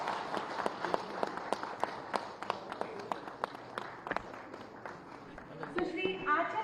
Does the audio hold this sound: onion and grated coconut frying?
no